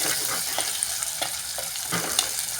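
Garlic and tomato sauté in a hot pan for a fish curry, a steady close sizzle with a few soft stirring scrapes, no voices over it.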